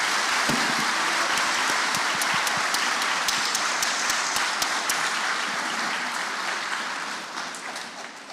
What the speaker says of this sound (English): can I have a big round of applause for our panelists?